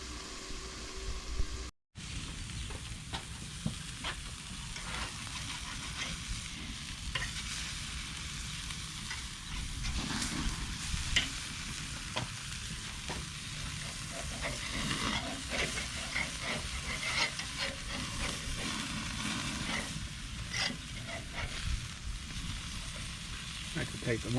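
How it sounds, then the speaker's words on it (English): Burgers sizzling over an open fire as they are flipped and moved about, a steady close crackle and hiss with scattered pops and clicks, one brief dropout early on. "I got some burgers to flip"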